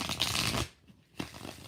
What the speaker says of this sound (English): All right, 3 more shuffles.